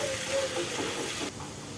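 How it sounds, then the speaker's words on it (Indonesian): Blended lodeh spice paste sizzles in a wok with a dense, steady hiss that drops slightly in level near the end of the short stretch. "Kemudian bumbunya saya tumis seperti ini."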